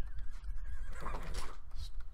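A horse whinnies in the Wild West Online video game, a rising neigh followed by snorting and faint hoof clops, fairly quiet and heard alone without speech.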